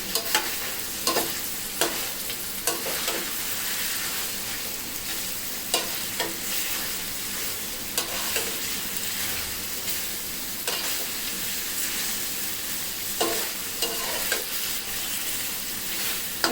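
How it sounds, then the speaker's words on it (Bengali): Mutton masala fries in a kadai with a constant sizzle, broken by regular scraping spatula strokes every second or two, close and clear without speech. "আমি কড়াইতে রান্না করছি"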